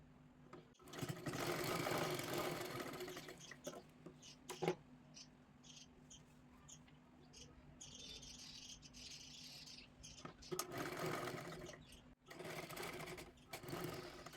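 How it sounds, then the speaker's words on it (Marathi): A sewing machine stitches a blouse in bursts, whirring runs with short pauses and a few clicks between them, close by and clear with no talking. "इथे व्यवस्थित आपल्याला शिलाई मारून घ्यायची आहे"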